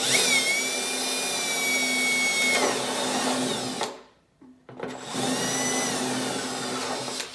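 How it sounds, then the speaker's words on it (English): A steady high-pitched whine of a power drill with a 7/8 inch step bit biting into a snowmobile hood, running continuously, pausing briefly, then resuming with the same strained tone. "Now we get our 7/8 uni bit and put a little pilot hole in it."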